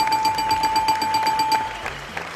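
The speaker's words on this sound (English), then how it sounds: "Let me press the buzzer now" A buzzer sounds during a live-streamed Red Shield event, a steady electronic tone with a rapid pulsing edge that holds for about a second and a half before cutting off, fairly faint.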